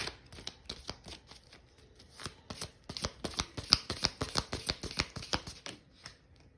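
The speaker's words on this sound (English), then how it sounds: "Now I'm going to pull some other cards." Tarot cards shuffled by hand, a quick run of crisp riffling flicks and snaps that builds into a dense, steady rhythm, close and clear with no talking.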